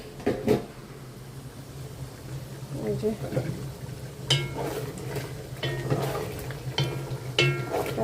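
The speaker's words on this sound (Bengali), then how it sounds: "মুরগিটা তো কষানো হচ্ছে প্রায় হয়ে গেছে" Chicken being stir-fried in a pot, with intermittent scraping and stirring clatter over a low sizzle, while a person talks nearby.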